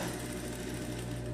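A sewing machine runs steadily while stitching the side seams of a girl's blouse, a dense, continuous mechanical whir with rapid needle chatter, loud and close throughout.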